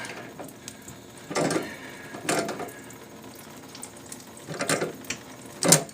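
Stuck bolts on a water pipe being forced with a tool, giving several short bursts of ratcheting, grinding metal clicks spaced a second or so apart over a quieter background, with no speech.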